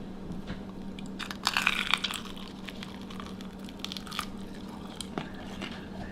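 A crisp crunch of biting into an air-fried chicken wing, a short burst of crackling near the mouth, followed by quieter chewing over a steady low hum.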